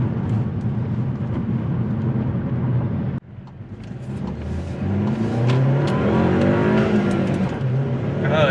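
A Volkswagen Golf Alltrack with an APR Stage 1 tune revs hard and climbs in pitch as it accelerates on a rough road, loud and close, with a brief dip partway through before surging again.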